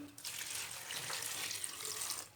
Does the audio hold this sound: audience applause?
no